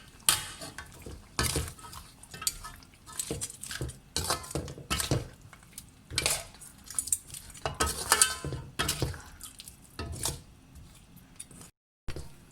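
A spoon scrapes and clinks against a pan while powdered masala is stirred into pepper chicken, irregular metallic taps and scrapes, close and fairly clear with no talking.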